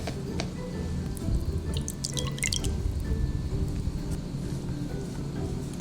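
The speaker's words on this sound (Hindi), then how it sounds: "बस आप इस तरह सिंपली इसको पानी में डिप करें और अच्छी तरह से इसको रब कर दें।" Chicken wings dipped and rubbed in plain cold water, with drips, small splashes and sloshing of water close by, irregular and continuous.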